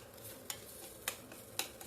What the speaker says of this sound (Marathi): भगरला साधारण ते 2 मिनिटे व्यवस्थित परतून घ्यायची आहे.